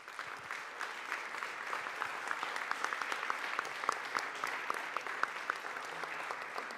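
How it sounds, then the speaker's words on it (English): Audience applause at the launch of a global summit in Berlin, sustained even clapping from a sizable crowd heard at moderate distance for several seconds with no speech. "May I have a round of applause, please?"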